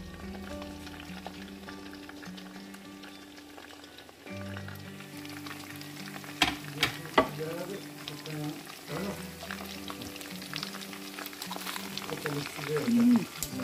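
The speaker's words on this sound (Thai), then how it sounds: "ไปทอดกรอบๆเลยค่ะ" Chicken deep-frying in hot oil, a bubbling sizzle with clattering utensil knocks and louder bursts toward the end, close by with talk heard over it.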